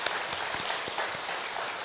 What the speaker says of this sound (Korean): 박수 한번 납시다